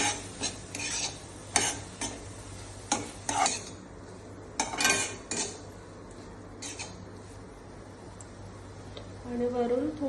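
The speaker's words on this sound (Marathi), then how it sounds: "त्याला व्यवस्थित मिक्स करून घेऊया." Grated paneer bhurji stirred in a pan at home, a utensil scraping and tapping the pan in uneven strokes with a faint sizzle beneath, loud and close, while a person talks over parts of it.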